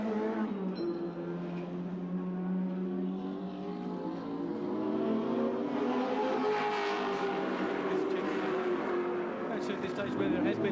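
A race car engine at the 1990 Tooheys 1000 in the pits, rising and revving steadily under crowd noise and a commentator's voice throughout.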